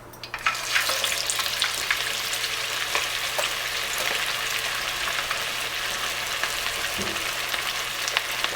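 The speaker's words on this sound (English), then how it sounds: "you have to turn the setting on a medium and fry it for 5 minutes" Nargis kebab frying in hot oil on medium heat, a continuous loud sizzle and crackle with small pops throughout, close up and without talk.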